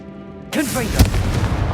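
A Confringo blasting spell goes off in Hogwarts Legacy inside a tomb, a sudden loud explosive boom with a sweeping magical whoosh and a sharp crack, rumbling on afterward.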